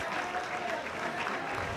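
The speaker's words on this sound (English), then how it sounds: "the Iolani Raiders and the Punahou Buffanblu come in across Eddie Hamada Field to clap for their supporters" Iolani Raiders and Punahou Buffanblu boys soccer players applaud their supporters across Eddie Hamada Field, a steady wash of many hands clapping at a distance with faint crowd murmur mixed in.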